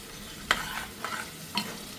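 Boiled chickpeas go into a frying pan for kadala curry and get stirred, giving three short scraping, sizzling strokes at close range.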